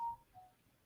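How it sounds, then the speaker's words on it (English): A mobile phone sounds faintly in the background, giving two brief electronic tones: a short steady beep followed by a fainter, slightly lower one, alone with no talking. "That's my phone in the background."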